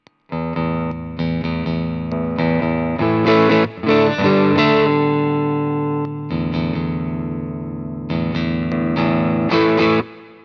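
Electric guitar played through a Tank Zentro overdrive pedal, thick distorted chords and sustained notes ringing loudly, with brief pauses between strummed phrases.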